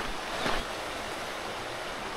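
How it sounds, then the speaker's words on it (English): Brook flowing beside a hiking trail on the Appalachian Trail near Bromley Mountain and Little Rock Pond, a steady broadband rush of water with a brief brighter splash early on, no voices. "you're just kind of walking along this brook, so it's pretty pleasant"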